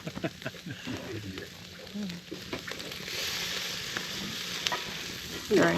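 Minute steak fries in a hot pan at a forest campsite, a moderate close sizzle with scattered scraping and stirring clicks early on, then a smoother steady hiss, with a louder knock near the end.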